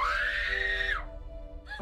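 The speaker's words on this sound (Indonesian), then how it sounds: "Namun Suyun yang terlanjur syok, berulang kali menjerit-jerit histeris." A woman lets out a loud, sustained hysterical scream in a horror film, holding one long piercing cry that breaks off, followed by a short second yelp.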